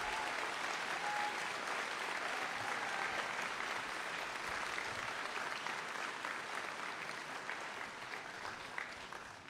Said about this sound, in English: let's please give them a round of applause and thank them for their labor and their service to this country